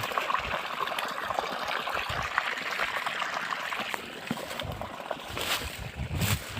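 Irrigation water runs into an onion field, a steady rushing, trickling flow heard outdoors throughout, without speech.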